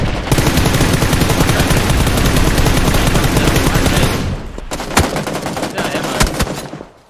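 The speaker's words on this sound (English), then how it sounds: "The Pifnic takes down D with that M24 headshot." A sustained barrage of rapid gunfire in a battle royale video game gives way to a few isolated sharp M24 rifle shots, loud and close.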